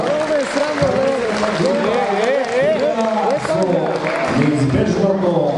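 An audience applauds to greet visiting guests from Kragujevac at an evening of classical and modern dance in Delčevo: steady, loud clapping throughout, with crowd voices and cheering mixed in.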